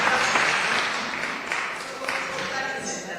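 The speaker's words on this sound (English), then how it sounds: "Big applause to Guatemala." Audience applause at a summit on combating human trafficking, honoring Guatemala: a broad, even patter of clapping from a seated crowd, fairly loud and sustained for a few seconds, with faint voices underneath.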